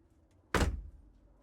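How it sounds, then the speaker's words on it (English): A door in a plant quarantine house shuts with a single close, solid thunk that fades quickly, with a quiet room around it. "close the door behind you"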